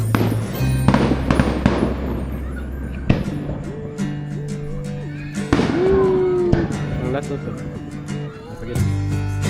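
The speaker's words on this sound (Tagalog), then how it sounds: "Pati fireworks bigla-bigla." Fireworks going off during a family vacation, sharp pops and bursts scattered through the clip under music and voices.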